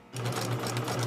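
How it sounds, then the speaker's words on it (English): Sewing machine stitching fabric along the bottom edge of a piece, starting abruptly and running in a fast, steady, close mechanical whir with a low hum for about a second, no talking. "Then I'm going to do the bottom, sew all the way down."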